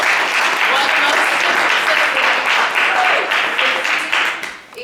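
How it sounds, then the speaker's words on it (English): An audience gives a speaker a dense, sustained round of clapping at a solidarity talk, holding strong for several seconds before tapering off at the close. "One more quick round of applause for Angie"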